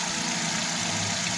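A 2017 Hyundai i20 Sports idling at close range, its engine giving a steady, even hum with no pause or talk.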